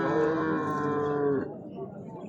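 A large cow at a livestock market gives one long, loud, resonant moo that cuts off abruptly, leaving quieter market background behind it.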